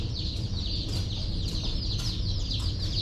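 Many baby chicks cheeping together inside a postal shipping box, a dense, continuous chorus of high peeps with a low rumble of handling or background noise beneath.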